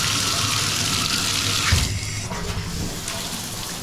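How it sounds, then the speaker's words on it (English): Steady rushing water from a shower in a resort hotel bathroom, close and continuous, with a slight surge partway through; no voices. "So now we're going to check out the water pressure."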